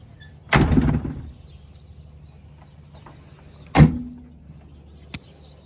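Doors on a GQ Nissan Patrol 4WD shut twice, a loud near slam followed a few seconds later by a second sharper slam, with a faint click at the end and quiet in between.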